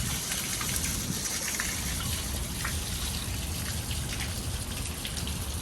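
RV gray water tank draining out, a steady loud gush and splatter of water that runs without a break the whole time.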